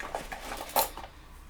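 Camping cutlery clinks and rattles softly as it is handled, with a brighter metallic clatter near the middle of a short stretch in a quiet space.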